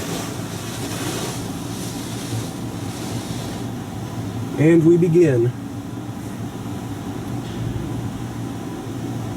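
A D&S 5000 automatic car wash runs in a wash bay with a steady rushing roar of spray and machinery. Someone speaks briefly partway through.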